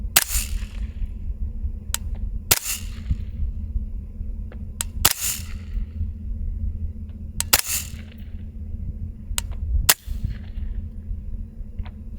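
Suppressed CMMG Banshee 9mm fired at a range: sharp, loud individual shots spaced a couple of seconds apart, about eight in all, each a crisp crack with a short tail over a low steady hum.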